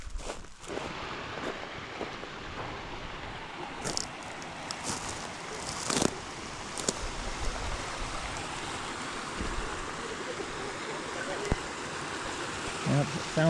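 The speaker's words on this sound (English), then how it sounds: "Yep, found the creek." A mountain creek in Utah's Pine Valley Mountains flows with a steady broadband rush, heard nearby outdoors along with a few brief knocks and rustles of movement on the trail.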